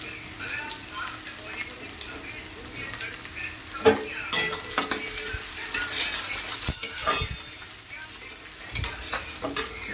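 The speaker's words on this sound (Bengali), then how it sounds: "পাঁচফোড়ন দেওয়ার পরে এবার আমি দিয়ে দেবো পেঁয়াজ কুচি।" Chopped onion dropped into a pan of hot mustard oil with five-spice, sizzling steadily while a spatula scrapes and clinks against the metal in irregular bursts; a faint voice is heard now and then.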